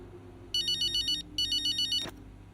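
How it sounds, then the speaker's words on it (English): A mobile phone ringtone sounds in the F1 25 racing game, two bursts of rapid electronic trilling separated by a short pause, loud and close over a low in-game hum, then cut off. "I'm getting a phone call."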